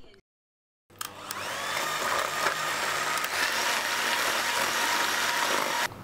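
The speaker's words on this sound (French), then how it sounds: "On introduit maintenant le sucre et on continue à fouetter." Sugar is whisked into basbousa batter for a chocolate and coconut version, a continuous, close whirring that starts after a moment of silence and runs steadily to the end without talk.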